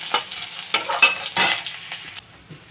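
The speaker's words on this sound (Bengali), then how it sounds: "কাঁচা কলা আর আলুগুলোকে মিনিটের মতো ভেজে নিচ্ছি।" Chunks of raw green banana and potato fry in hot oil in a pan, bursts of sizzling alternating with scraping stirs of a spatula and quieter spitting in between.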